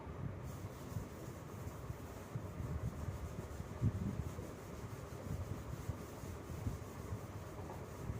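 An eraser rubs writing off a board during a Class 9 maths lecture, a steady, continuous scrubbing friction heard close for several seconds with no talking.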